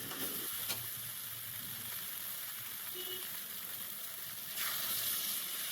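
Eggs fry in a pan of potato curry with a steady, moderate sizzle and hiss that holds evenly and briefly intensifies toward the end, close by with no talking.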